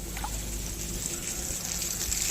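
Irrigation water runs into a farm field from a broken channel, a soft steady trickle and flow heard at moderate distance with a low rumble beneath and no talking.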